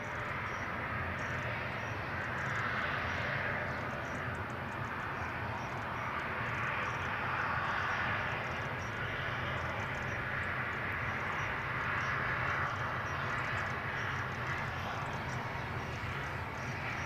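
Airliner taxiing fast at Edinburgh airport, a steady broadband jet-engine roar heard from a distance, holding even and continuous throughout with no talk.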